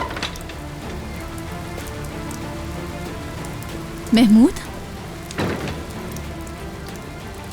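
Heavy rain pours steadily on surfaces in a dense, constant hiss, with a brief voice calling out partway through and a few louder splashes over the downpour.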